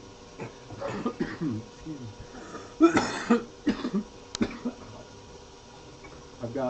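A few short coughs and throat clearing from oven cleaner fumes, close by, mixed with quiet breathy sounds and small movements.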